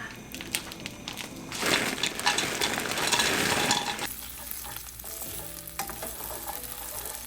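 Potatoes frying in a pan on a home stove, with steady sizzling and some stirring scrapes building in the middle, then settling to a quieter crackle, near and without talk.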